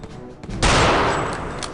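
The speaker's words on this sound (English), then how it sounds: "Love the sound of that sniper rifle in the morning." A sniper rifle fires in the game Return to Castle Wolfenstein: one loud, close blast with a long ringing tail, after quieter background sounds.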